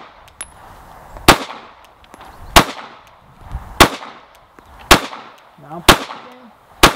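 Gunshots during a rapid wake-up shooting drill: five loud, sharp reports at roughly one-second intervals, each ringing out with a decaying tail, and a voice speaking faintly between shots.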